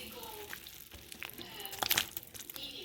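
A spoon stirs thickening sweet and sour meatball sauce in a crock pot, producing quiet wet scraping and bubbly, sizzle-like swishes with a few small clinks, all soft and close.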